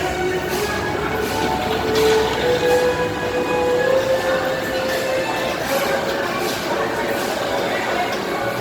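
A roller coaster train at SeaWorld Orlando's Infinity Falls rumbles steadily past, with rhythmic clacking over the track and a faint squeal, heard from close by beneath the station.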